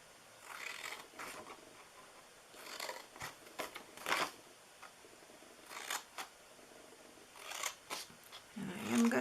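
Scissors snipping through the sides of a paper Christmas candy treat box, a series of short, crisp cuts close by with brief pauses between them.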